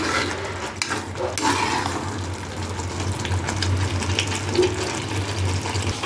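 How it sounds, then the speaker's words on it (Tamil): Mushroom thokku is stirred in a pan with a spoon, producing continuous wet scraping and sizzling along with occasional knocks against the pan, close and steady over a low background hum, with no talking. "நல்லா கிண்டி விட்டுட்டே இருங்க, அடி பிடிச்சிட போகுது"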